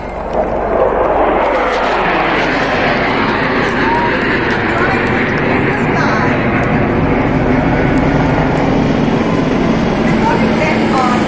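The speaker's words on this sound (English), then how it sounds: "And there you can see 3 Sukhoi 30s. Watch the aircraft." Three Indian Air Force Sukhoi Su-30 fighter jets fly over in formation at a flypast, a loud, steady jet roar that fills the whole stretch, with an announcer's voice running over it.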